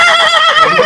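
A stallion neighs in a short, loud, close whinny with a wavering, rising pitch, heard alone at a horse-breeding show.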